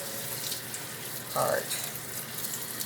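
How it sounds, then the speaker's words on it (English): Alkaline water runs from a kitchen tap to rinse undried seamoss, a steady faint stream with a brief louder splash midway and a voice speaking briefly. "Now I'm going to put on my alkaline water."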